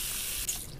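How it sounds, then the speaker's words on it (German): Water from a tap runs into a large pot in the Cooking Simulator video game, a steady hissing spray that stays even and continuous, close and fairly quiet, with no voices. "Wasser auffüllen."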